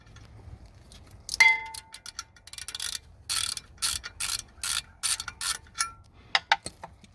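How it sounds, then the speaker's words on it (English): A screw on a Mercedes S550 (W222) front brake rotor is loosened with a ratchet, giving close, rapid bursts of clicking in irregular runs with brief pauses between them. "as I'm loosening the screw, you see how easy the rotors actually come off"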